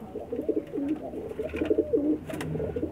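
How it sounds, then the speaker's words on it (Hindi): Breeder pigeons in a Pakistani pigeon setup cooing continuously nearby, overlapping soft throaty coos with a low background hum. "इनके ब्रीडर कबूतर हैं जी"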